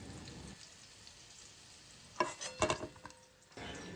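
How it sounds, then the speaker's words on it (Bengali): Pointed gourd (potol) frying in mustard oil with salt and turmeric in a kadai: a soft steady sizzle, then a few close scraping stirs and clatters before the frying hiss returns. "লবণ আর হলুদ দিয়ে খুব ভালোভাবে পটলটা ভেজে নিতে হবে।"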